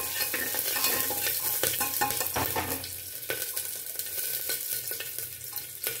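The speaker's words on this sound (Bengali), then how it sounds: "এবারে আমি সম্বরা করার জন্য ফোড়নগুলো দিয়ে দেবো।" Whole spices, bay leaf, dried chilli, cumin, green chilli and cinnamon, sizzle in hot oil while being stirred, a dense, continuous close crackle with light scraping of a spoon in the pan.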